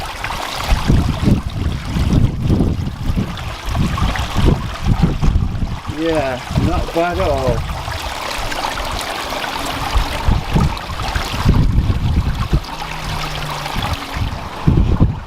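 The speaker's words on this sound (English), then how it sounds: "Look at that, proper waterfall." Steady rushing of a pump-fed garden waterfall, with wind buffeting the microphone and a brief spoken comment partway through.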